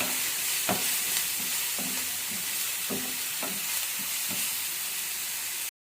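Onion and green chili paste fries in a pan, a soft continuous sizzle broken by a handful of spaced stirring scrapes, close and moderately quiet, no talking.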